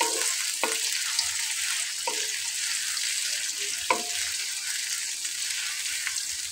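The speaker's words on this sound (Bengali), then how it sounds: "তার ভেতরে আমি এখন আগে থেকে কুচি করে রাখা পেঁয়াজগুলোকে দিয়ে দিচ্ছি" Chopped onions sizzle in hot oil in an iron kadai over a medium flame, a steady close frying crackle broken by a few soft scraping stirs.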